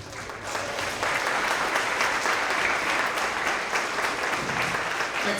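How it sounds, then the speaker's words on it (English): Audience of families and students applauding first-grade award winners at a school assembly, a dense, even wash of clapping that swells in after a moment and holds steady and loud throughout. "Let's continue that round of applause for our first grade Tigers of the Quarter"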